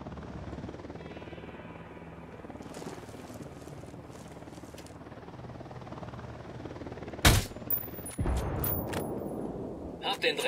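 In Ghost Recon Wildlands, a helicopter drones in the background while sharp bursts of gunfire crack out later, loud and close, over a battlefield din with a voice speaking briefly.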